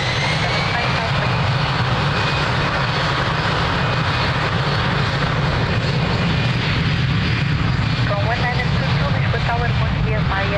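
A jet airplane taking off from runway 02 at Lisbon Airport gives a loud, steady roar that holds throughout, with faint radio voices underneath.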